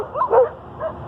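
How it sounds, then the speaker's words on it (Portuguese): Dogs giving a couple of short yipping barks and whimpers, moderately close, in a brief burst during a sermon. "não liga para esses cachorros aí gritando aí"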